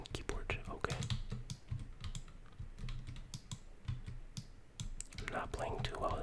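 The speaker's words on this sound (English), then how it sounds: "you can hear the button clicks and keyboard okay" Quiet computer keyboard typing and button clicks during PC gameplay, a fast, irregular run of close, soft taps and clicks that continues steadily throughout, with low game sounds underneath.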